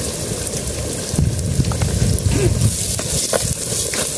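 Onion-based gravy for a crab dish sizzling steadily in a hot pan as it is sautéed, a dense continuous crackle with louder bursts of frying and occasional faint stirring clinks.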